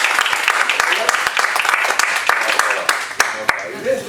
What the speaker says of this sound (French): Applaudissez s'il vous plaît, monsieur le chargé d'affaires.